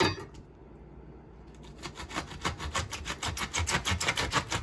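A bread knife saws through a steamed-style artichoke in a home kitchen. After a quiet start come steady rhythmic rasping strokes, close and moderately loud.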